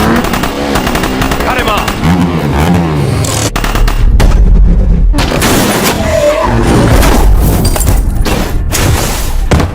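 Film scene of armed bikers chasing and shooting, loud bursts of gunfire mixed with roaring motorcycle engines and heavy thumps, with voices talking over the action.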